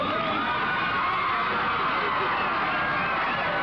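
A 1985 ICW wrestling arena crowd cheers and roars for Lanny Poffo during a tag match, a dense, continuous wash of voices and whoops with no single voice standing out.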